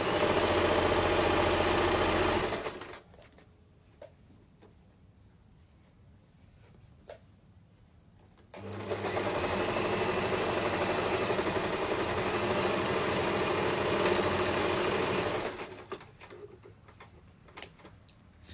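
A sewing machine stitches a circle skirt with a steady mechanical whirr and tick. It runs in two sustained bursts separated by a quiet stretch, with small handling clicks between runs.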